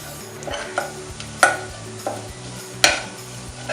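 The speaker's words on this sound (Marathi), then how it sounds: "हे मसाले चांगले ह्याच्यामध्ये परतून घ्यायचे आहेत" Whole cloves, a cinnamon piece and bay leaves sauté in hot oil, giving a steady close sizzle with a few sharp clinks and scrapes of a spoon stirring the pan.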